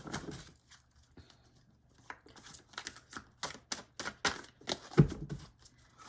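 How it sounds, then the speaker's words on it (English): Oracle cards are shuffled close up in a quiet room, giving a series of soft, irregular papery riffles and taps that grow denser and louder toward the end. "I forgot, I usually shuffle these this way."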